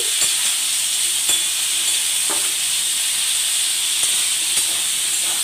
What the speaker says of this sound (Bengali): আমি আর একটা কড়া বসিয়ে দিয়ে গাজরটা ভাজতে বসিয়ে দিয়েছি।